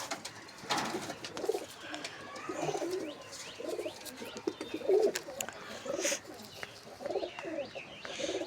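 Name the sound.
pigeons cooing in a loft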